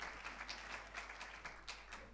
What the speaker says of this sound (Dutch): geef ze nog één keer even een mooi applaus